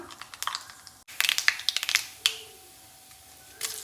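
Mustard seeds spluttering in hot coconut oil while making a sambar cheera thoran stir-fry: sharp, irregular crackling pops arriving in quick bursts with short pauses between, close and fairly quiet, with no talking.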